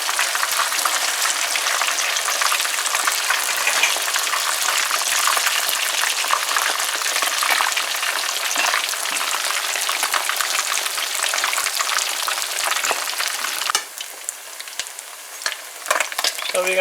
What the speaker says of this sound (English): So let the first side fry a little bit completely